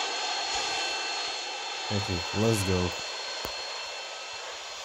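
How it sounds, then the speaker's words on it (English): The roaring engine of a bomber jet in a video game forms a steady, broad drone throughout, with a player briefly speaking over the middle. "Yo, it looks like the bomber jet."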